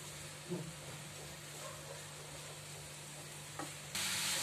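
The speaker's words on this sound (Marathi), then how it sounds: "त्याच्यावर हा घी मध्ये आपण गाजराचा किस परतून घ्यायचा आहे" Grated carrot sautéing in ghee over a low flame, a faint, soft continuous sizzle with a couple of quiet stirring scrapes, followed by a brief louder hiss at the very end.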